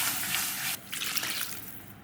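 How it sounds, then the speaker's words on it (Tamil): Water is poured into masala in a pan, a brief hissing splash that cuts off abruptly, followed by faint trickling and sizzling. "நல்லா மிக்ஸ் பண்ணிவிட்டு கொஞ்சமாக தண்ணி சேர்த்துப்போம்."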